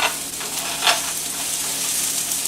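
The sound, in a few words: thinly cut shallots frying in a skillet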